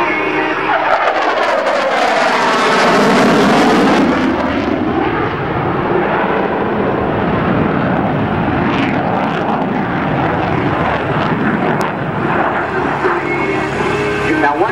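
An F/A-18C jet roars loudly overhead while performing an overhead break at an air show, a sweeping Doppler whine rising and falling through a decelerating turn, with sustained, powerful engine noise throughout.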